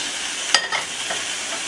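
Three pounds of meat being stirred in a hot frying pan, a steady broadband sizzle with a sharp scrape of the spoon and a couple of softer stirring bumps, close and alone.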